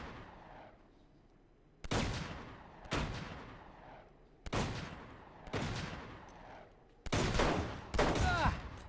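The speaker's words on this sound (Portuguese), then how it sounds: "Mandei assim um tiro à toa e matei-o." Gunfire in the video game Uncharted 2 booms out as about six heavy, sharp reports spaced a second or so apart, each with a rumbling decay, the last two close together and loudest.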